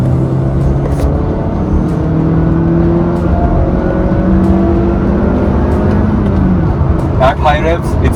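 A 2021 Honda City 120 bhp petrol manual engine is revved hard, its loud, rising tone climbing and falling through several surges in a steady roar, with a voice talking over it.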